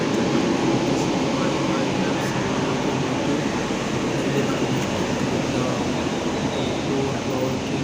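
A South Central Railway WAP-7 electric locomotive train gives a loud, steady rumble and rush that holds without a break from start to finish.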